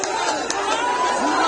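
An angry village crowd advances amid Bihar election unrest, a dense mass of shouting, overlapping voices, loud and close.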